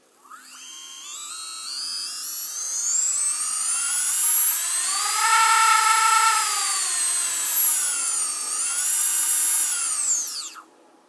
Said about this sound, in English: Okay, so here's what the motor sounds.